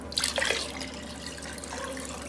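Water splashes as it is poured into a cooking pot for bottle gourd khichdi, a short, bright gush followed by a softer, steady trickle close by.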